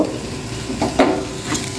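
Bottle gourd peel fries in a pan with a soft continuous sizzle, broken by a few quick scraping stirs, close and fairly loud.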